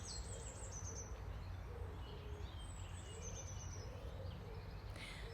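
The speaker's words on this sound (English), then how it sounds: "It's gorgeous hearing all the birds." Faint high bird calls and soft twittering drift over a constant low outdoor hum, distant and unobtrusive.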